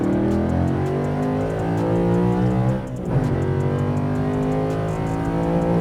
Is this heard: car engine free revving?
yes